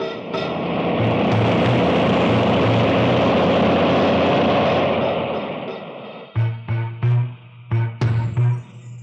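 An approaching vehicle rumbles loud and steady with a broad roar for about six seconds, then gives way to a series of short, sharp thumps and knocks toward the end.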